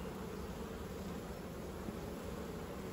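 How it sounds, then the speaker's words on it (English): A dense, continuous hum of honeybees fills an open hive, a steady wash of buzzing at close range with no voices over it. "You can look at your bees."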